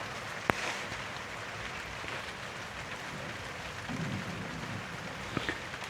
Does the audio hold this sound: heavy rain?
yes